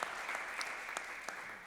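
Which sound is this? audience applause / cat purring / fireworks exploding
audience applause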